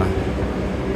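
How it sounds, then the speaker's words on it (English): A subway train runs steadily through the 72nd St IRT station, a continuous loud rumble of wheels and cars rolling alongside the platform for the whole moment. "So we have a downtown train on the other platform."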